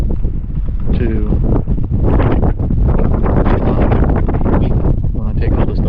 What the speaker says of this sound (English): you probably hear the wind